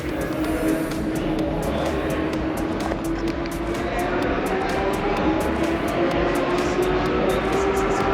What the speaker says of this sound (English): That 5-cylinder turbo. Best engine ever.